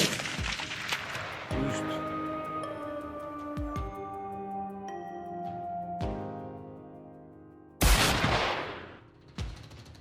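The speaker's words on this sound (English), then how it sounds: "Not wasting the opportunity, we immediately opened fire." Gunshots ring out during a wild boar hunt on a frozen, snowy mountain: several sharp, loud reports spaced a second or two apart, each leaving a ringing tail, with a heavier blast near the end.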